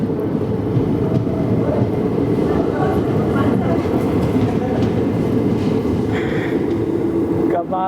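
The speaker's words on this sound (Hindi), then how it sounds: "बजकर 17 मिनट पर हमारी ट्रेन पहुंची है ताड़ीपत्री" The Vasco da Gama–Tirupati Express pulls into Tadipatri station with a loud, continuous rumble of rolling wagons and faint clickety-clack, ending in a brief squeal as it slows.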